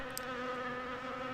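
Buzzing bees in the Adiboo video game, a steady droning hum that holds loud and unbroken for the whole moment, with a faint bright chirp near the start.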